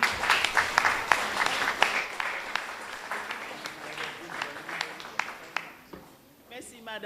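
Audience at a primary school Kwéyòl spelling bee applauding to welcome a speaker, steady clapping that tapers off before a voice begins speaking.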